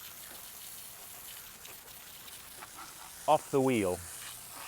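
A garden hose sprays water over a car wheel in a steady, soft hiss and patter in the background, with someone briefly talking near the end.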